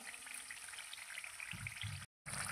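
Dal and brinjal curry frying in its tempering after hot water has been added, a steady close sizzle with bursts of low bubbling near the end and a brief dropout before it resumes.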